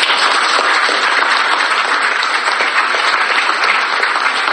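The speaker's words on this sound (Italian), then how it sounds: "Un applauso a tutti" A congregation at an Italian church mass applauds loudly and continuously, the sustained clapping of many hands filling the space evenly with no voices rising above it.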